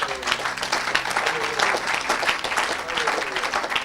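Church congregation applauding for Jesus, a dense, steady wash of clapping filling the whole stretch, fairly loud, with voices mixed faintly underneath.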